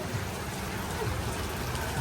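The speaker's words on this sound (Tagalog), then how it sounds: "Lakas din ang ulan." Heavy rain pours steadily in a wide, even hiss with no pauses, heard up close outdoors while people shop.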